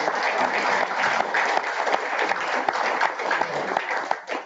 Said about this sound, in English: if we can just a round of applause to Charlie